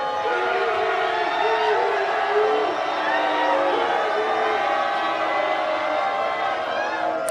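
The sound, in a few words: crowd cheering at volleyball match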